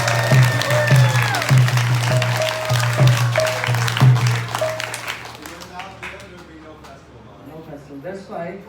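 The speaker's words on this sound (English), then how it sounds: "we should clap for them." A temple audience at a Srimad Bhagavat Saptah gathering in Florida claps for volunteer devotees, a steady spatter of hands over a low sustained drone, with voices speaking through it and the clapping thinning toward the end.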